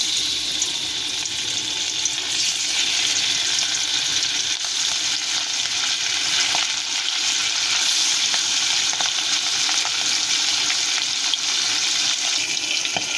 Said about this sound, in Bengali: এবার ইলিশ মাছের পিসগুলোকে আমরা ভেজে নেব